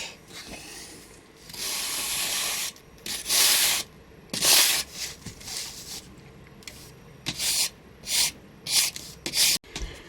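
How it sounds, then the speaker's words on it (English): A fling wing being rubbed with a hand sanding block, with repeated rasping strokes in bursts of uneven length, close and fairly loud, separated by short pauses. "I'm now just going to do the rest with my sanding block."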